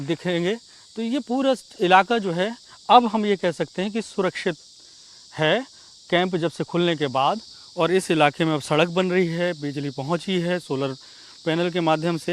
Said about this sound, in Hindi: मेरे पीछे के बैकग्राउंड की जो आवाज़ आपको आएगी वो झींगुर होते हैं उसकी आवाज़ आपको सुनाई दे रही होगी।